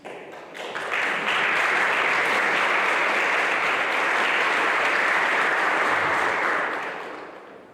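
Sustained applause from an audience at the Miss Hummelstown 2021 pageant, honoring a contestant's parents and baseball and softball association members; dense, steady clapping swells in after a second, holds loud, then tapers off near the end.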